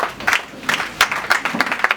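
Church congregation applauding and cheering during a pastor's installation service, with uneven bursts of clapping rising and falling over two seconds, fairly close and lively.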